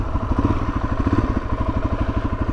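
A 2019 Suzuki DRZ 400S single-cylinder engine running close by with a steady, rapid thumping pulse and slight mechanical clatter, loud and alone without speech.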